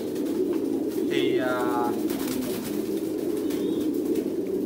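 Pigeons on a farm coo in low, throaty bursts, with a bird call sweeping down mid-clip over steady background noise, and someone speaking briefly.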